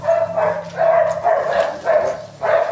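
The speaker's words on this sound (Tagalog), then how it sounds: "Ganyan yung mga aso dito." Dogs bark in a repeated series of about six loud, rough woofs, evenly spaced and close by, with no talking.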